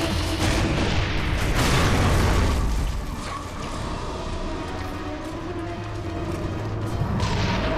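A frag grenade exploding in Gears of War 3, a loud, close blast with a rumbling burst that decays into a sustained crackle and battle noise.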